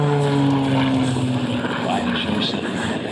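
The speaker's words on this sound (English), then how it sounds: "Now keep your eye on the airplane." Propeller aerobatic airplane performing at the Marine Corps Air Station Miramar air show, its engine a loud, steady droning roar with pitch sliding downward as it passes, while an announcer talks over it throughout.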